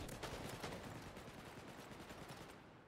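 A weapon in the alpha build of the shooter Wormhole Wars fires rapidly and continuously, a dense stream of close shots at steady loudness that tapers off at the end.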